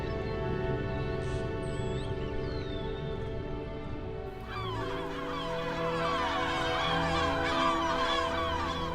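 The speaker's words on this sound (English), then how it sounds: "Shrieking gulls circle the Roque Chico de Samor." Gulls shriek and call in overlapping cries while circling a sheer sea rock that holds a large breeding colony, the squawking rising and growing denser halfway through over a steady background rush.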